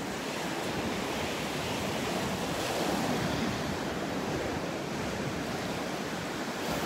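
Ocean surf rolls in at high tide on Delnor-Wiggins beach on a morning walk, a continuous dense roar of breaking waves with wind buffeting the microphone.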